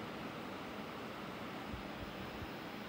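MSI MEG S360 Silent Gale radiator fans on an all-in-one liquid cooler running at full speed, giving a steady, soft broadband whoosh of moving air with no talk.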